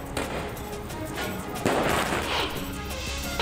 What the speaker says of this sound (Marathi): फटाक्यांची जोरदार आतिषबाजी करण्यात आली